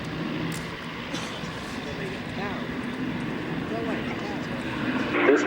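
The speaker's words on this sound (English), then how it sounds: "This Mark IIA, believed to be the 14th built at Castle Brom, oldest airworthy Spitfire in the world, flown today by Squadron Leader Clive Rowley." Supermarine Spitfire Mark IIA, an early Castle Bromwich-built airworthy warplane, flying at a Battle of Britain anniversary air show; a steady engine drone holds throughout amid crowd noise and people talking nearby, swelling slightly at the end.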